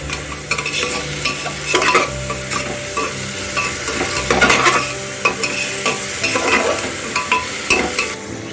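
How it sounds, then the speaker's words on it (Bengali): Spice masala for a quick chicken curry fries over a medium-high flame while a spoon stirs and scrapes it around the pan, making loud bursts of sizzling and scraping over a continuous crackle, with no one talking. "এবার আমরা এই মশলাটা ভাজতে ভাজতেই ভালোভাবে কষাতে কষাতে"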